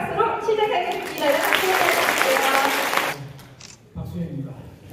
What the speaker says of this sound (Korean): 북콘서트를 큰 박수로 시작하겠습니다